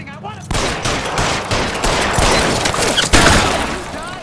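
Gunfire in the video game L.A. Noire: a sudden, loud, sustained burst of rapid shots and overlapping rattling fire, close, with shouted voices mixed in.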